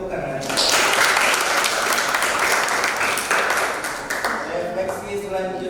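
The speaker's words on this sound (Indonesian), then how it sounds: "beri tepuk tangan" Audience applause in a classroom or group reflection session, a dense steady patter of many hands clapping together for several seconds, fairly loud and continuous.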